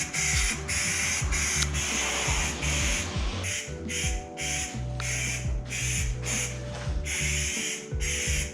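Aerosol trigger spray painting an off-road bumper kit for a Toyota Tacoma, heard as repeated close, loud hissing bursts in a steady rhythm of roughly a dozen sprays, over low background rumble.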